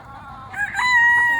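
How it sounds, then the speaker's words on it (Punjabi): A rooster crows once nearby, a loud drawn-out call that rises in the middle and holds to the end over faint background noise. "ਇੱਕ ਮੁਰਗਾ ਸਾਡਾ ਉਧਰ ਨੂੰ ਵੀ ਭੱਜ ਗਿਆ"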